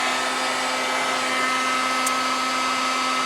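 A heat blower softening the adhesive under a Chevy Duramax truck's door molding, a loud, steady, close whooshing roar that holds constant with a whining tone and no speech over it.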